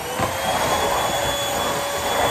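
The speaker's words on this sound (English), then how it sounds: "I am only going to vacuum for a split second to clean up the debris that is left on the floor" Vacuum cleaner sucking up debris from a floor, a loud continuous whining roar held steady throughout with no voices.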